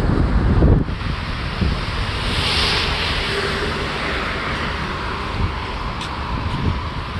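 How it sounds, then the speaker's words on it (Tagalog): Steady wind rushing past the microphone in a continuous broad roar, with a brief louder gust at the start and no voices, outdoors in Busan, South Korea. "Tapos ganito pa yung weather na medyo mahangin."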